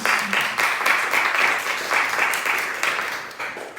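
A church youth congregation gives a round of applause during a Sunday worship service. The clapping is steady and fairly loud, swelling in waves throughout with no one speaking.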